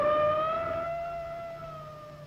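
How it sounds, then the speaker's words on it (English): An emergency vehicle siren sounds in a loud, sustained wail with a steady tone that slowly fades as it pulls away. "can hear the warning sound of a siren"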